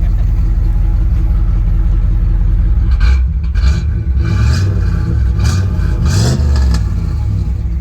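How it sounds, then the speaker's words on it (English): A 1988 Pontiac Firebird Trans Am's 5.7L engine idling with a deep rumble, then revved several times in quick bursts, the exhaust roaring close by with a slight crackle and a few voices under it. "Can we give it a little rev?"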